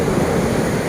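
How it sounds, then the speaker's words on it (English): Loud ocean waves break on a Koh Samui beach after a storm: a close, continuous roaring wash of surf that fills the whole short moment, with no speech. "I hope you can hear me over the waves breaking."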